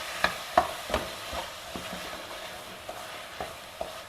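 Mashed potato, grated coconut and jaggery being mixed together in a pan over a low flame, with a run of sharp spoon scrapes and taps at an uneven pace over a faint background sizzle.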